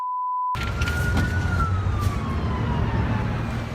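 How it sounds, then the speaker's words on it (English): A siren wails continuously, its tone slowly falling, over heavy low rumbling traffic or wind noise; a brief steady tone precedes it. "Emergency sirens already blaring on the way."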